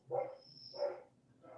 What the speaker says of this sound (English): a dog who's barking like crazy